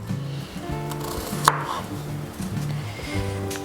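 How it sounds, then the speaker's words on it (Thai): A knife cuts a small daikon radish into chunks on a cutting board, with a sharp chop standing out among quieter cuts against steady kitchen background sound. "ก็หั่นเป็นท่อนๆ แล้วเราก็จะผ่ากลางทีหนึ่งประมาณนี้นะครับ"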